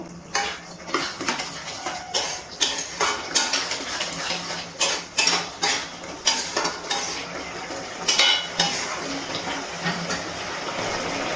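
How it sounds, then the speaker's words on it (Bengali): A spoon or spatula scrapes and knocks against a metal pan while chicken keema masala is stirred, giving a steady run of rhythmic clatters over a faint sizzle, close and fairly loud with no voices. "এবার একটু নাড়াচাড়া করে নিচ্ছি"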